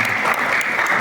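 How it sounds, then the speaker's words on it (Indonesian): A seminar audience claps in a dense burst of applause, loud and close, sustained evenly for a moment. "Kita aplaus sekali dulu"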